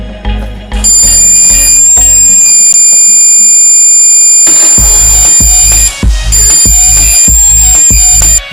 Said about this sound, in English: when it is about to overflow, the buzzer makes noise.